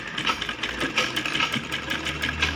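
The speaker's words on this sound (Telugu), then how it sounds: "లేస్ ఇలా పెట్టేసుకొని కుట్టేసుకోవాలి." A sewing machine stitches lace down the center of a child's lehenga choli, its needle running in a steady, fast mechanical whir that stays close and loud throughout with no pauses.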